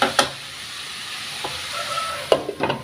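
A spoon stirs carrot poriyal in a hot pan amid a low, steady sizzle, with a few distinct scraping strokes against the metal, close and without voices.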